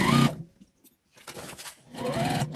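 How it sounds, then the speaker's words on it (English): A home sewing machine back stitching over the side seams of a fabric Christmas car trash bag runs in short whirring bursts: one at the start, then a pause, then two longer runs of stitching close by. "I like to back stitch over the seams."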